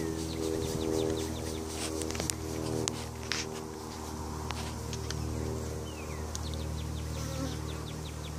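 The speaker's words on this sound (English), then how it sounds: "There's a lot of bees in this top box." Honey bees swarm around a crowded hive top box, a dense steady buzzing that fills the whole stretch close by, with a few faint knocks and clicks over it.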